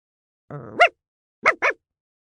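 A small, fluffy white dog gives three short yapping barks, the first drawn out with a whiny lead-in, then two quick ones close together. The barks are loud and close against silence.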